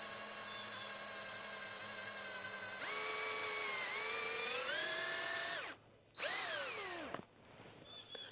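A power drill whines steadily, then its pitch climbs and dips as it bores a hole in a Mora knife handle, stops briefly, and spins up again before cutting off.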